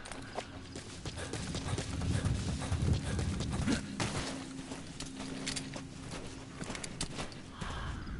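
Faint, muffled hoofbeats of a horse in Metal Gear Solid V: The Phantom Pain clop along steadily at a walking pace over a soft background hiss, with no talking.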